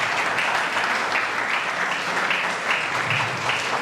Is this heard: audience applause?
yes